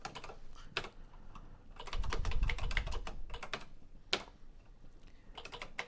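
Typing on an Atari 800 computer keyboard in its memo pad mode: close, crisp key clicks in irregular bursts with short pauses between, no talking.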